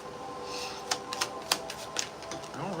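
Tarot cards being shuffled, giving a few crisp riffling snaps and clicks over a quiet, steady background, with no one talking.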